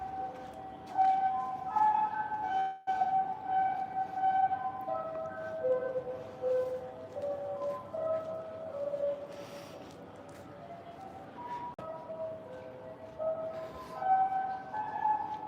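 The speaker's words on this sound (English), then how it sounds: "That sound is called the 5 o'clock bell." Outdoors in Tokyo, Japan, the 5 o'clock bell chime plays over public loudspeakers as a slow, echoing electronic melody carried across the streets, distant-sounding and steady over faint traffic, with no talking.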